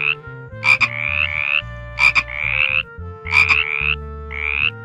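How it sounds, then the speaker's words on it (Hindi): Frog croaking in a repeated pattern of bright, rasping calls, grouped in bursts of two or three with short pauses, over a low steady background. "फ्रॉग को हिंदी में मेंढक कहते हैं।"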